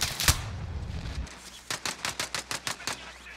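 Gunfire in the Warzone battle royale video game: a single sharp shot, then a rapid burst of about eight evenly spaced automatic rounds, close and loud.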